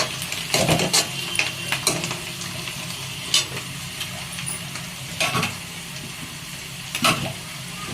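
Onions fry in a pan, browning, with a steady sizzle and repeated close spoon scrapes and clatters against the metal at irregular intervals, no talking over it.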